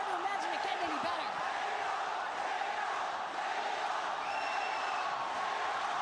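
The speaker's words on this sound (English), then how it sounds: "Listen to the crowd here at Lumpini Stadium, all chanting for Nong." Crowd at a Muay Thai fight night in Lumpini Stadium chanting together, a dense roar of many voices with rising shouted calls, fairly distant and sustained throughout.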